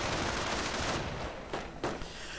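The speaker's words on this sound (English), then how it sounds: "Grenadiers coming under fire from the BAR equipped riflemen." Video game gunfire from BAR-equipped riflemen shooting at grenadier teams: a dense, steady crackle of rapid shots, with a couple of sharper bursts standing out near the end.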